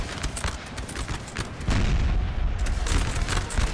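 Musket volleys and artillery fire in the strategy game Napoleon Total War, a string of sharp shots then a heavier booming roll of cannon, fairly loud with a rumbling battle background.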